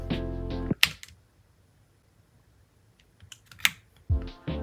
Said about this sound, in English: I'm gonna put on the keycaps now and we'll figure it out